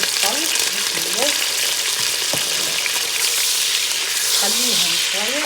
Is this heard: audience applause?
no